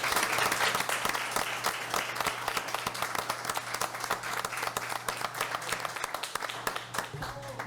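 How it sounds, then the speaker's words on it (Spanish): Steady applause from a group at a legislative labour and social welfare commission meeting, dense clapping continuing at an even level throughout with a low constant hum underneath. "Un aplauso, por favor."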